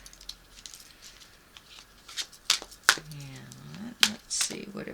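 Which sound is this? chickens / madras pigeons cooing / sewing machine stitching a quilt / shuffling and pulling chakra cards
shuffling and pulling chakra cards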